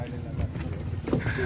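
A boat on Chilika lake rumbles low and steady, with wind buffeting the microphone and faint voices of passengers underneath.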